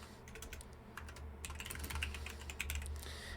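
Typing on a computer keyboard while building a Squarespace web page: a quiet, steady patter of light key clicks, close by and alone.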